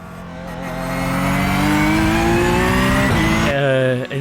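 Porsche 911 GT3 Cup 992 race car in a racing video game, a loud sustained engine note rising under throttle with a thin drivetrain whine riding above it, then a sudden gear shift near the end.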